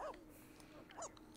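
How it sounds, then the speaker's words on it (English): A ghost dog in The Sims 4 plays with a squeaker toy, giving two short, bright squeaky chirps, one at the start and one near the end, over a quiet game background. "the ghosty doggy's playing with the squeaker"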